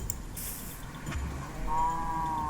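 A Minecraft cow lets out a drawn-out, tonal moo near the end, rising over a low ambient rumble and faint scattered game noises.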